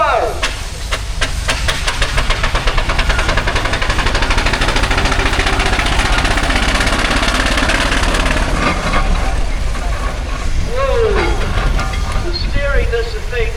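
A steam traction engine runs at a steam rally at Tinkers Park, giving a loud, constant hiss and chuffing mechanical rumble close by, with people talking over it.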